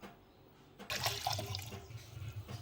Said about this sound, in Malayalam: ഇനി അതിലേക്ക് 1 ഗ്ലാസ് വെള്ളം ചേർക്കുക.